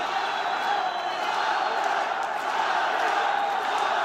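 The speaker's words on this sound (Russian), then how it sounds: "Марат, Марат скандирует публика." Large arena crowd at a Saint Petersburg MMA event, with fans chanting the name of fighter Marat Balaev in a steady, continuous roar that fills the space.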